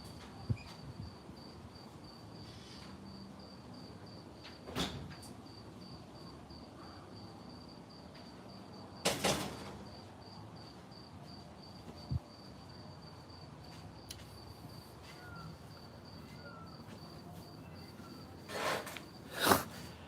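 Crickets chirp outdoors at night in a steady, faint high-pitched drone. A few brief louder knocks and rustles sound nearby.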